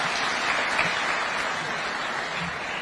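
Sustained applause from a business audience at a Kenya Chamber of Commerce event at State House, Nairobi, a dense continuous wash of clapping with no clear pauses.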